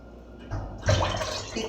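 Water splashes and pours into a pot for making jelly in a short burst, starting softly then growing louder and steadier for about a second.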